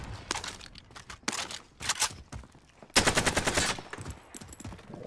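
Gunfire in a multiplayer shooter game: rapid bursts of automatic shots in short volleys, with a longer sustained burst midway, loud and close.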